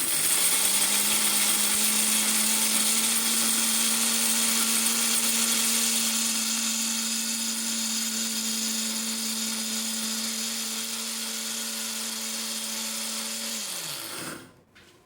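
An electric mixer-grinder whirs steadily for about fourteen seconds while coarsely grinding a stuffing masala of spices, its high motor whine easing slightly before winding down and stopping at the end.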